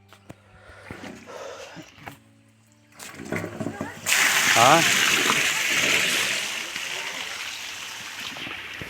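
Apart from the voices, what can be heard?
filling water, splashing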